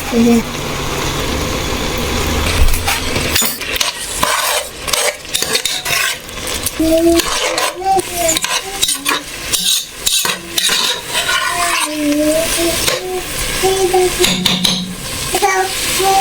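A spoon scrapes and clinks against a metal soup pot as tomato puree is stirred in, repeated rhythmic scraping over a steady background hum, with a person talking at times.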